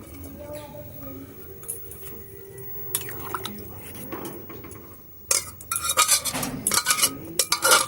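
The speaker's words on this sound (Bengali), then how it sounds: "এবারে আমি সেই সেদ্ধ করে রাখা ছোলাটা আমি এর মধ্যে দিয়ে দিতে হবে।" Boiled chickpeas tipped into a pan of paneer masala for chana masala, giving clattering, wet scraping and stirring knocks that build after a quieter stretch, with a voice talking over the cooking.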